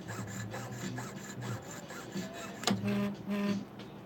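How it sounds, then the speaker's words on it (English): A small rotary sanding tool grinds and rasps in short, uneven passes against a metal coin being shaped into an arrowhead, with a higher whine near the end; fairly quiet and close. "I'm just going to use my sanding tool to fix this."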